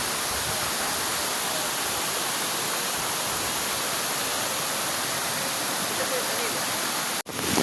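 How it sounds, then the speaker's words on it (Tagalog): Strong flowing water roars steadily across a three-hectare site during heavy, unceasing rain, a dense, loud broadband rush with no pauses, ending in a brief dropout and a short bump near the end. "Malakas na agos na tubig."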